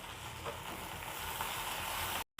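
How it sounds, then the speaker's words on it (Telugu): Boiled broad bean pieces fry with onions in a pan, giving a steady, close sizzle that continues unbroken with no voices. "ఉల్లిపాయలు మనకి ఇలా ఫ్రై అయిపోయిన తర్వాత మనం ఉడికించుకున్న చిక్కుడుకాయ ముక్కలను కూడా వేసుకొని ఒక 5 మినిట్స్ పాటు ఫ్రై చేసుకోవాలి."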